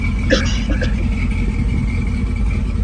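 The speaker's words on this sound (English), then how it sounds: "Just a nice running truck." Engine of a truck idling steadily, a low continuous rumble close by with a faint whine and a brief knock or cough near the start, no talk over it.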